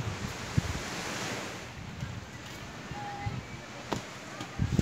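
Sea waves wash and churn continuously with gusty wind buffeting the microphone, a few soft thumps breaking through the steady surf.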